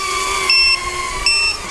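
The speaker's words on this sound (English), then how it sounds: "Sorry about the beeping so much." An FPV mini race drone gives off a loud, close low-battery alarm: steady high electronic tones with two brighter beeps rising above them in a regular pattern.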